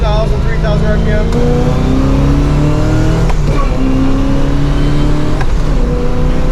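A 1969 Chevelle Yenko tribute accelerates hard from inside the cabin, and the engine note rises loudly through several gear changes. Occupants talk over the engine.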